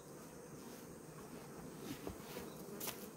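Native Korean honeybees buzz faintly around their hive, a thin steady hum with an occasional closer bee passing, quiet and without voices.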